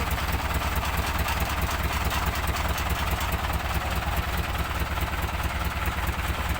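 A Mitsubishi engine idles with a steady, even, moderately loud rumble and a faint clatter while the gear will not engage, and nothing interrupts the drone.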